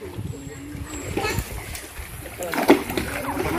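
People swimming in a resort pool, splashing and sloshing water in irregular bursts, with children's voices and chatter mixed throughout.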